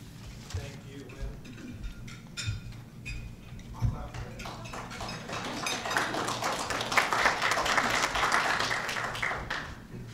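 Audience applause at a business panel event starts sparse with scattered claps and builds into fuller, louder clapping over the last several seconds, with faint talk and clatter underneath.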